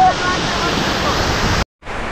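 Tarabu Waterfalls near Paderu roars as a loud, constant broadband rush of falling water close by, cut by a brief dropout near the end before resuming.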